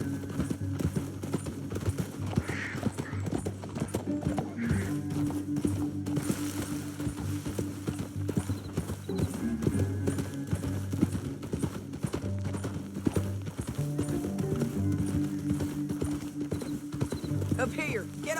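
Horse hooves clip-clop in steady rhythm while riding in the video game Red Dead Redemption 2, continuous hoofbeats at moderate volume under background music, with occasional speech.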